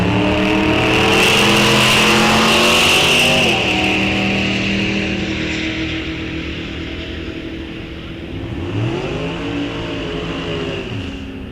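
Drag racing cars at a raceway muscle car and motorcycle event roar loudly off the line and down the track, engines revving hard with rising and falling pitch, one pulling away in the distance.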